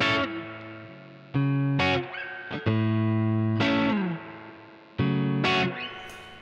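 A Koch Studiotone 20 tube guitar head plays a plexi-like driven tone with reverb turned to 10, loud distorted chords struck and held in several bursts, each ringing out into a long reverb tail.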